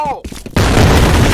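Grenade explosion with gunfire in the video game F.E.A.R. Combat, a loud, close, sudden burst about halfway through that stays as dense noise after a brief lead-in.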